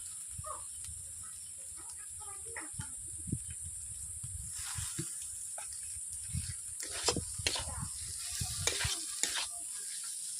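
Poppy seed paste fries with potatoes in a pan, giving a soft, steady sizzle broken by scattered crackles and stirring scrapes that grow busier toward the end.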